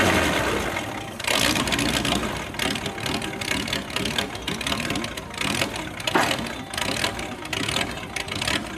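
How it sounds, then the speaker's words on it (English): A Ford 8N tractor converted to a 100 horsepower flathead V8 runs loud and close, its steady rumbling engine note holding after a brief quieter start with slight revving swells and no talking. "This one now has a 100 horsepower flathead V8."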